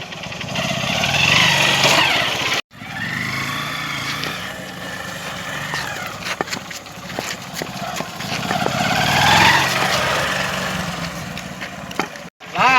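A motorbike engine runs just after starting in an outdoor village setting, with a steady near idle that rises and falls. There are brief dropouts and faint voices in the background.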